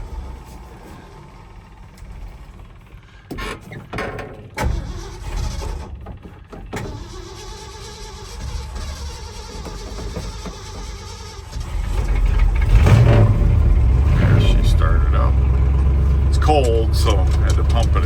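A 1971 Ford F100 V8 truck with a four-speed is started cold after a few pumps of the gas, cranking briefly before catching into a loud, steady, rumbling run, with people talking earlier over quieter background noise.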